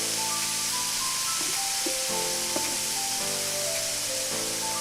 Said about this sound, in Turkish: Şimdi üzerine kıymamızı ekliyoruz. Kıymamız suyunu çekene kadar kavuruyoruz.